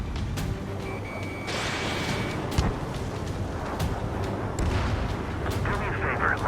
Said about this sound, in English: Their artillery fire just missed us off our starboard side.